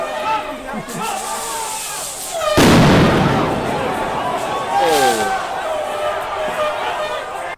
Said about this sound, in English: what we actually heard was an explosion. People were saying they were M80s